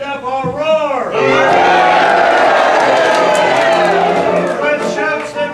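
A crowd erupts into a loud, sustained roar of shouting and cheering at a live stage show, swelling quickly after a voice and tapering off over several seconds.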